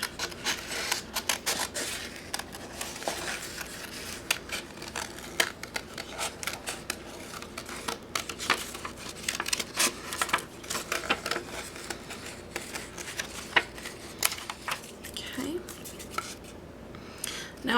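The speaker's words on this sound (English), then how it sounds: "Always turning the paper, not the scissors." Scissors snip through paper while cutting out a figure, a quick run of crisp close clicks and crunches that continues steadily, with faint speech in the background.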